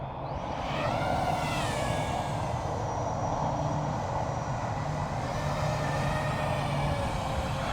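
An EMAX BabyHawk II analog FPV drone in flight, its small motors giving a steady, loud, high whine with shifting pitch that holds throughout without a break.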